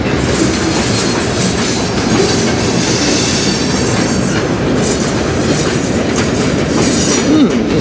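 A short CN freight train of about six or seven cars rolls past close by, a loud steady rumble with rhythmic clattering of wheels on the rails, running continuously throughout.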